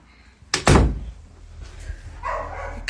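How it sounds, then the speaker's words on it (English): A door in a house swings shut with a sharp double thud, followed by a quiet room with faint rustling and low background noise. "let me close this door"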